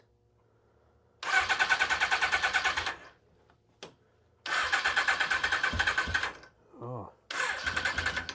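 Three bursts of rapid, pulsing starter cranking come from a 1985 Suzuki GS700ES motorcycle with the choke on, separated by pauses, and a short voice calls out between the second and third tries.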